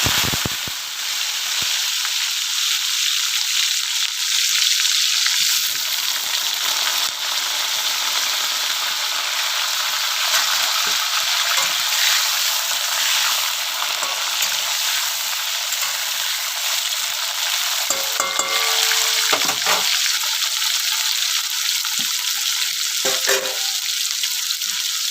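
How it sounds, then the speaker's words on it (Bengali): Green jackfruit fries in a pan as a loud, constant hissing sizzle lasting the whole time, with a few brief stirring clatters and no speech. "এখন এঁচড় ভেজে নেব"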